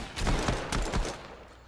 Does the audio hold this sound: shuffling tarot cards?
no